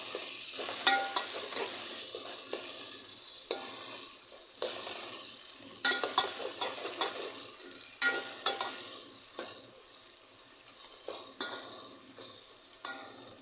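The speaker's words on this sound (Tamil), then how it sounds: "அதையும் போட்டு கொஞ்சம் கிண்டி விட்டுக்கலாம்" Fish curry masala with chilli powder is stirred in a frying pan, with a constant sizzle under repeated scraping strokes of the spoon, close and moderately loud, with no speech.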